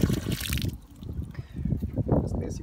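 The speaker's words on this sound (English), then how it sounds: "We'll flip this valve on and you'll see that the water comes up." Water from a rain barrel catchment system's valve trickles and sloshes up close in a garden setting, with a burst of splashing at first and then irregular gurgling pulses.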